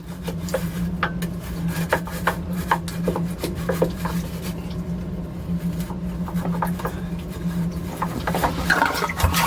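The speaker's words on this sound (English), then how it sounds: "Let me take my scrub brush and get in here and clean the walls." A scrub brush rubs back and forth on the walls of a Formula 40 Performance Cruiser boat's compartment, producing repeated close scratchy strokes over a steady low hum.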